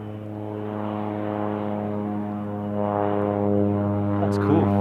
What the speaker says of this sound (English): Getting a good scenic flight in over the Whakatipu.